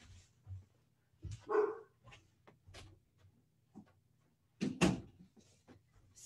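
A dog barking indoors in a few short, scattered bursts, moderately close, with quiet gaps and light knocks between them.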